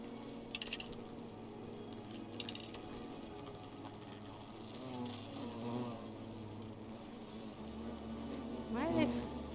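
Insects buzzing, flies or bees, in the video game The Forgotten City, a low continuous droning hum under ambient game sounds and mechanical clicking, with a person talking quietly at times.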